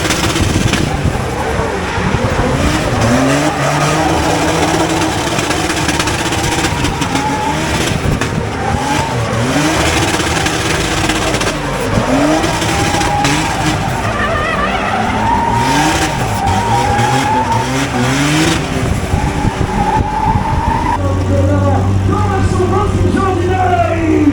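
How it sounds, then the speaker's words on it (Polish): At a drifting championship in Bielsko-Biała, a drift car launches with a slipping, burning clutch. A loud, continuous engine roar rises and falls with revs while tires squeal, and voices talk over it. "postanowiłem użyć techniki ruszania maksymalnie wykorzystującej przyczepność opon, czyli na styku przyczepności, paląc trochę sprzęgło."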